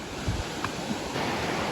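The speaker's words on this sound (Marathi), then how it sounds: "मी तुम्हाला एकदम जवळून दाखवतो पाण्याचा प्रवाह" Water rushing close by at Kalu Waterfall in Maharashtra, a dense, steady broadband roar with no speech over it.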